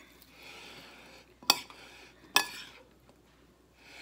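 A utensil stirs wasabi and regular seasoning into salmon in a bowl, two sharp scraping clinks standing out over quiet, faint background handling.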